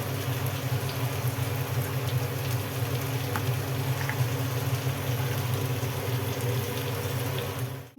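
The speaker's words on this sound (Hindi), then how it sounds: "मोटर भर के चल रही है हमारी" A household water pump motor runs steadily while water pours down through a pipe into a tank, a continuous loud rushing and humming fill that holds for several seconds before cutting off abruptly at the end.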